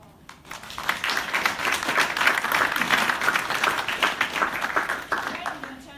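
An audience at a church-and-state talk-back event claps: the applause swells quickly after a quiet start, holds as a crowded patter of individual hand claps, then gradually thins toward the end.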